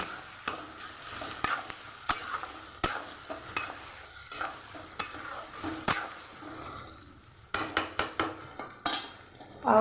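Mutton curry frying in a pan is stirred briskly, giving a steady run of spoon scrapes and clinks against the metal over a faint sizzle, with a louder clatter at the end.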